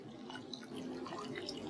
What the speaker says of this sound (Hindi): आप इसमें ठंडा पानी डालें